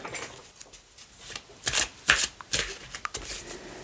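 Tarot cards are shuffled close by in a quick series of irregular papery riffles and slaps, building in the middle and continuing to the end.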